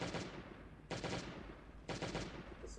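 Gunfire from weapons in the survival video game Last Day On Earth: Survival, three sharp bursts about a second apart, each fading quickly, with no talk over them.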